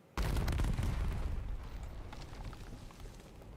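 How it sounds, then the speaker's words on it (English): Massive explosion from a keg set on a fuse in the video game Sea of Thieves: a sudden loud, broad boom that opens abruptly and rumbles on, fading slowly into a lingering roar. "It's definitely a massive explosion,"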